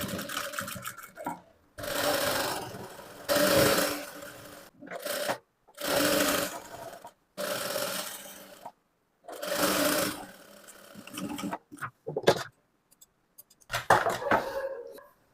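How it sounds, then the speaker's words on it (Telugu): Sewing machine stitching a folded half-inch hem on a frock, running in repeated bursts of a second or two separated by brief silences, steady and close. "ఇప్పుడు ఇలా స్టిచ్ వేసుకున్నాం కదా"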